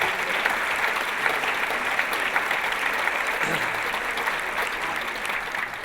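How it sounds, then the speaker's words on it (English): A steady round of audience applause at a performing arts awards ceremony in New York, dense and even, holding at moderate loudness throughout. "can we please give all of those foundations a round of applause as well"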